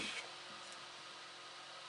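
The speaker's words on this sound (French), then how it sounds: "Allez, un coup de sèche-cheveux." A hair dryer blows on fresh paint on a model Scania truck, a quiet, even whooshing hiss that holds steady throughout after a slightly louder start.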